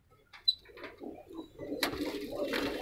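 A Chinese pigeon hen coos in a few soft, low, warbling phrases near by, followed by a broader rustling noise.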